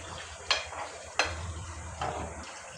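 Chicken adobo sautéing in a pan with a splash of vinegar, a soft low sizzle broken by three sharp scrapes of a utensil stirring against the pan, close and fairly quiet.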